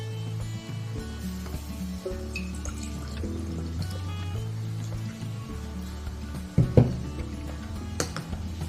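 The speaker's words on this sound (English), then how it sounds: "I pour it through a funnel." Homemade cough and sore-throat remedy liquid is poured through a funnel into a jar, giving a steady low trickle with a few drips and a brief clink near the end.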